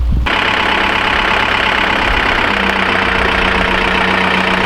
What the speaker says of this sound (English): These trees are super stinking heavy, so we're having to pick them up with the tractor